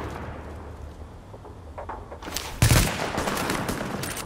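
Gunfire in Tom Clancy's The Division video game: a short loud burst of shots erupts mid-clip over a murky game background with scattered quieter pops before and after.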